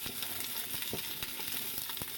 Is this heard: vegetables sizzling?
yes